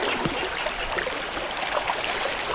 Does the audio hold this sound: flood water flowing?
yes